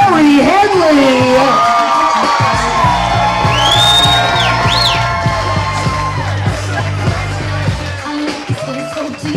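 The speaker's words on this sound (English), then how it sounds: "One more big round of applause" Wedding reception guests at a private residence in Brooklyn cheering and whooping for the newlyweds, loud yells over an announcer's amplified voice, with a steady thumping beat underneath.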